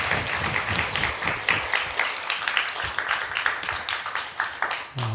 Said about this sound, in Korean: 우리 영광의 박수 한번 올려드리겠습니다.